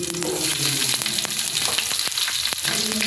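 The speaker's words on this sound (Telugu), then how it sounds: "పోపు వేగిన తర్వాత ఉల్లిపాయ ముక్కలు వేద్దామండి" Onion pieces hit hot oil with fried tempering seeds for a fish curry, giving a loud, even sizzle with scattered crackles and pops, close and unbroken.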